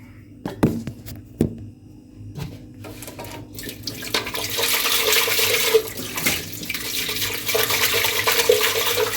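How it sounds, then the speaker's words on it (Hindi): Tap water runs steadily into a jug as it is rinsed in a kitchen, starting with a few clinks and knocks before the pouring flow builds into a sustained splashing rush. "तो ये आपका जग है, इसको हम धोते हैं।"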